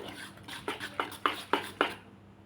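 A spoon scrapes and taps against a bowl while mixing a ground dal and rice batter, about six quick, sharp clinks in a steady rhythm, close and fairly soft, then quiet.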